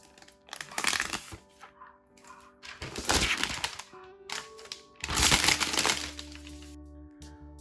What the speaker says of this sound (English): Alright, so we are able to unwrap it.